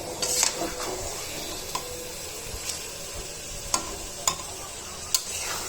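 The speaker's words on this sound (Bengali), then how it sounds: "মশলার সাথে ভালোভাবে মাখিয়ে নিব। গোস্তর গায়ে যেন ভালোভাবে মশলাগুলো মিশিয়ে যায়।" About 1.5 kg of beef being mixed with spices in a pot for tehari, a steady sizzle with occasional scraping stirs and light clinks against the pan, close and alone without speech.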